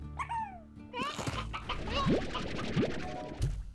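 Hen hens from the game Slime Rancher cluck and squawk in quick, close bursts, with busy game sounds layered behind them.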